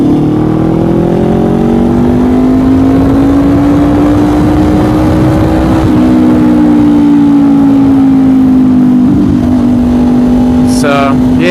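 Honda CBR500R motorcycle engine on a night ride, a loud, steady drone held close to the microphone, with pitch slowly rising and briefly dipping on a gear change.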